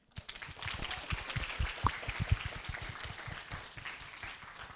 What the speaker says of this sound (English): Please give a big round of applause to all the speakers who delivered